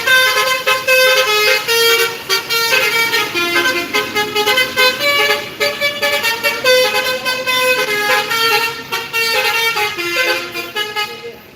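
Indonesian NPM intercity buses pulling into a terminal, sounding a long run of loud melodic horn toots that rise and fall in a repeating tune over low engine rumble.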